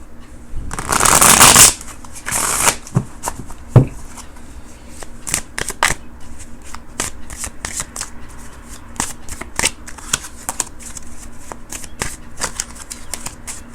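Tarot cards are riffled in a loud burst, then shuffled again with softer flicks and taps that continue in scattered bursts.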